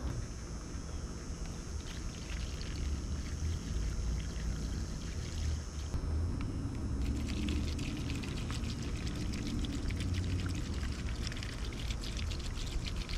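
Vinegar poured over rusty tools sitting in containers, a continuous splashing pour and trickle that grows a little busier partway through, with no talking.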